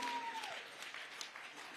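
An audience applauds to welcome two female constables at a Border Security Force valour display ceremony, a soft, distant wash of clapping that follows a fading tone.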